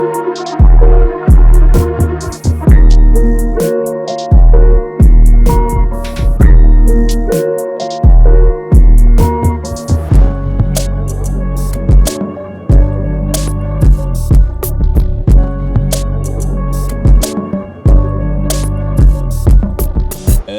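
Loud, dense drum beat with improved bounce, punchy kicks and crisp hits driving a swung groove under layered melodic music, steady for about twenty seconds with no talking.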